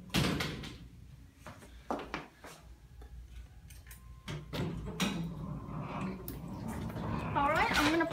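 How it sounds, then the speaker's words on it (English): Elevator doors sliding shut with clunks and thuds as the car settles, a brief chime-like tone near the end, ambient room noise with some background activity throughout. "let's get off and wait for the doors to close"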